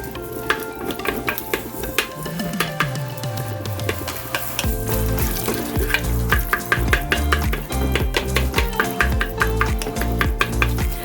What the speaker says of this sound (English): we're going to check this meat and just break it up a little bit